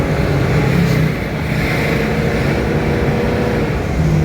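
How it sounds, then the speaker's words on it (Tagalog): A Mitsubishi Pajero engine running while driving around 40 kph, a loud, steady low drone with continuous road and wind rumble heard from inside the cabin, no talking. "Maririg nyo rin naman yung makina eh."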